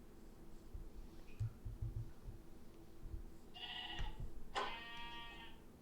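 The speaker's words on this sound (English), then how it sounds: "Just hit the sheep with some rotten flesh." Sheep bleat in a video game, two short distinct bleats near the end of the clip over a low rumbling background. The sound is fairly faint.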